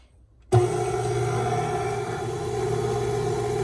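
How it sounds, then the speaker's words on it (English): A KitchenAid stand mixer switches on abruptly and whisks eggs with a steady, even motor hum that carries on unchanged. "I'm gonna turn the speed up just a tad on the KitchenAid"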